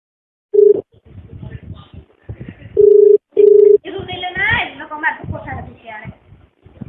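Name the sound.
telephone being dialed and ringing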